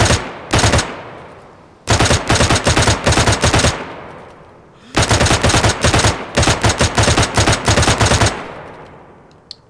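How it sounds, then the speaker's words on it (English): An M16 rifle in the video game DayZ fires in rapid, very loud bursts, with a short opening volley followed by two long rattling strings of shots, each fading into a brief echo. "This is burst."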